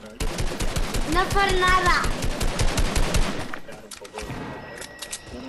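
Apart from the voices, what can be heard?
gunfire from a teammate shooting at the player in Fortnite video game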